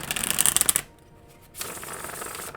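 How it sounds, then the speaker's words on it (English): Tarot cards being shuffled by hand during a card reading, a dense riffling flutter that runs loud, pauses briefly to near silence, then resumes steadily, close and alone. "let's give this one more shuffle here."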